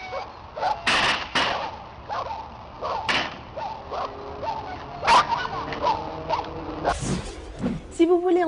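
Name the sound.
Brittany spaniel dogs doing an agility course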